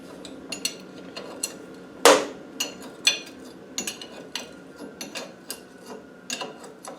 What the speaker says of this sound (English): We're going to tighten that bolt up now. That nut, I should say.